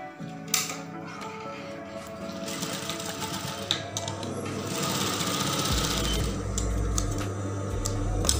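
A sewing machine runs stitches along the side seam of a half-circle skirt, its close, steady mechanical whir with rhythmic needle clatter speeding up and growing louder toward the end.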